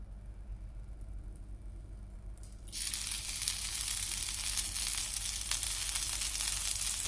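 Green moong dosa batter roasting in ghee on a pan over a low flame: after a quiet start, a sudden steady hissing sizzle begins and continues evenly at close range.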